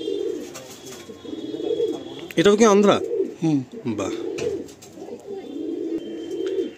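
Pigeons in a tidy loft of about twenty to twenty-five birds coo steadily nearby, with a louder burst of calling midway, while someone talks over them.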